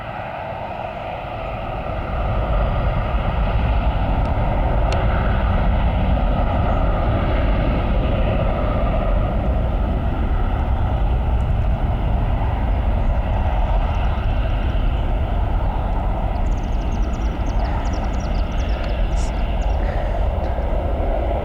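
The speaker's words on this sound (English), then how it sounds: "And here's a plane taking off." A plane taking off from a Cleveland airport runway, a steady loud roar that swells in over the first two seconds and then holds as a broad continuous rumble with wind-like noise throughout.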